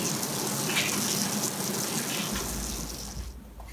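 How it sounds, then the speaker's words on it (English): Homemade sparkling nigori sake being poured through a coarse strainer, a steady gushing splash of liquid that fades out toward the end, close and alone without speech. "Step 1. Strain coarsely with a strainer."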